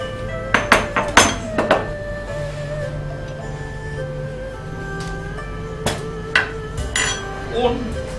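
A pan is knocked repeatedly to drain out oil from roasted hazelnuts and almonds, sharp metallic clanks in two clusters with a quiet gap between.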